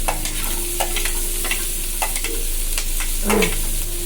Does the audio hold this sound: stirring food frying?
yes